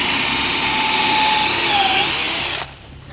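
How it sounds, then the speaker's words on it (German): An old Flex angle grinder runs steadily at high speed during a catapult build, a loud continuous whine that cuts off abruptly near the end, leaving quiet room noise. "Das war der Flex. Von der alten Flex."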